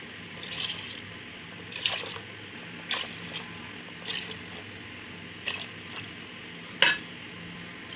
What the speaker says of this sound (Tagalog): ang ilalagay natin na tubig is 5 cups